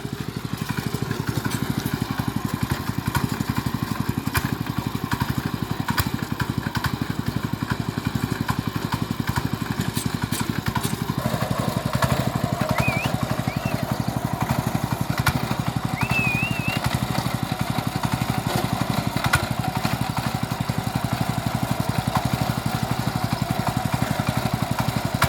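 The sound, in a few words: tractor engine running on farm field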